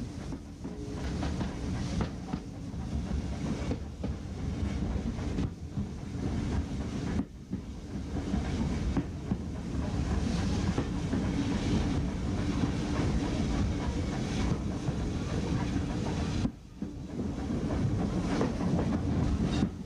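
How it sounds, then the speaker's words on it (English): A narrow gauge train on the Welshpool and Llanfair railway rumbles steadily along the track through town, wheels clattering over rail joints with wind buffeting the microphone, a continuous moving roar with no voices. "train begins to thread its way back through the town."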